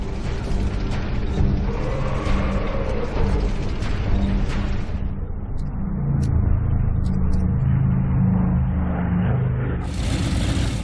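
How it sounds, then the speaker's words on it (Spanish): German tanks advance toward Stalingrad with a loud, continuous engine rumble and mechanical clatter. Heavy low-end booms and grinding run throughout with no voices. "Los carros alemanes ponen rumbo a Stalingrado."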